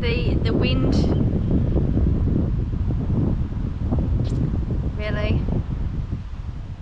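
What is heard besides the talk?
wind blowing over a field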